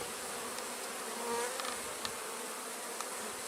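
A dense crowd of honeybees clustered outside a hot, overfull hive gives a steady, even buzz, with a few bees passing closer now and then.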